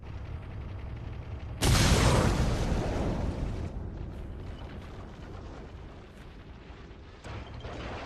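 A bomb goes off in the Ace Combat 6 video game with a sudden loud blast, then a long, fading rumble and a smaller burst a few seconds later.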